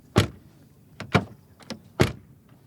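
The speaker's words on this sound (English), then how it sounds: "but what about the door closing sound?" A few solid thumps of a Porsche 911 (992) car door shutting, spaced over a couple of seconds, close by in a quiet setting.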